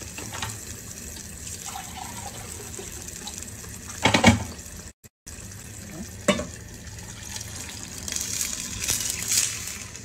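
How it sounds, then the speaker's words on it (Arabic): Water is poured into a cooking pot over sautéed onion, garlic and tomato juice, a steady pouring wash with a few louder splashes and a brief pause partway through. "شوية مية كمان"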